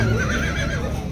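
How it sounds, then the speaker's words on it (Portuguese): A horse at a horse fair in Campina Grande, Paraíba, gives a single loud, close, wavering neigh. "Ó, aqui, cavalo bonito aí."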